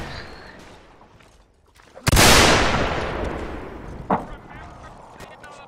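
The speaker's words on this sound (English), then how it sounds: "That's the sound of me firing my pistols up in the air." Pistol shots fired into the air in the video game Mount & Blade: North and South, a loud nearby blast followed by a long decaying boom, then a second sharper report a couple of seconds later over faint background noise.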